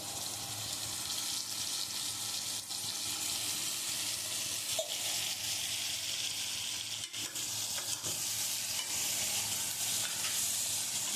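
Chicken meat fries for handi chicken with cumin, coriander and red chili powder, an even, close, continuous sizzle with faint occasional stirring scrapes.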